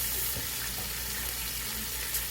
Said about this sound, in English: I put a little bit of water in the bottom of that pan